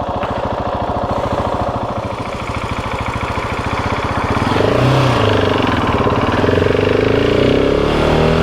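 GasGas ES 700 dual-sport motorcycle ridden through city streets, its single-cylinder engine thumping steadily up close, then rising in pitch and loudness as it accelerates through the gears.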